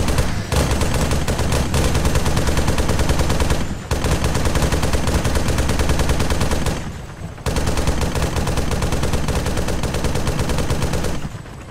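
Rapid automatic gunfire rattles in a multiplayer shooter video game, loud dense bursts in two long stretches broken by brief pauses, with no talk over the shots.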